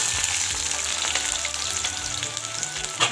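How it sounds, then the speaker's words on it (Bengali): Chopped onion sizzles and fries in hot oil in a wok, a steady close crackle that holds for a few seconds with no talking. "এখানে কড়াইতে তেল দিয়ে নিয়েছি। তো এখন আমি এর মধ্যে দিয়ে নিব পেঁয়াজ কুচি"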